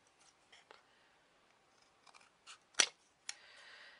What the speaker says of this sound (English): using these scissors, but they are good for cutting chipboard